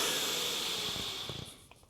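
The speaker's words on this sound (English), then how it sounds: "So you inhale from this nostril" Steady breathy inhale through a single nostril during alternate nostril breathing practice, a long continuous airy rush that fades toward the end, close and alone.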